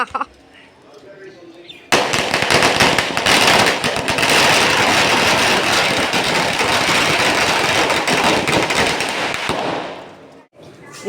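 Firecrackers bursting at a Diwali celebration in the rain: a sudden onset of dense, loud crackling and popping that continues for several seconds, close by, then cuts off.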